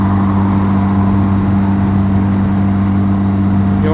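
A Benelli TRK 502 motorcycle engine holds about 5000 rpm while riding at highway speed, giving a steady, loud, droning hum with strong low tones and wind rush and no talk.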